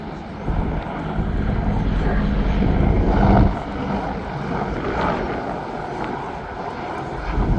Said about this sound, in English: Despite being large and heavy, the Apache is highly maneuverable, as you can see with this 270-degree wing over.